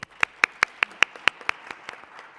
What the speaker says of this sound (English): Please help me give Pastor John a round of applause.